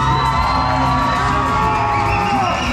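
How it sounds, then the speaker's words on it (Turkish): A large stadium crowd before a Palmeiras match cheers and whoops loudly and continuously as the cup is brought out, a dense roar filling the space. "Şu anda kupa çıktı. İnsanlar alkışlıyor."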